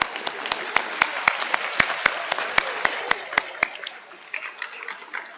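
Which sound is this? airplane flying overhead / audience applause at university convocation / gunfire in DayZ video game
audience applause at university convocation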